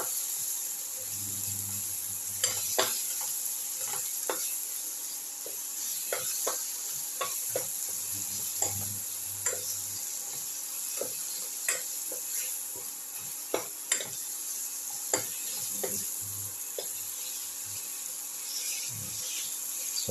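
Tomato pieces sautéing in a pan, with a steady soft sizzle and intermittent scrapes and taps of stirring throughout.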